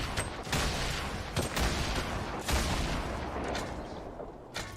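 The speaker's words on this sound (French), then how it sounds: "Ah, au-dessus de nous, grenade." Explosions and gunfire in a Fortnite match, a grenade going off overhead among dense, continuous booms and shots that pound steadily throughout, with broadband bursts recurring roughly every second.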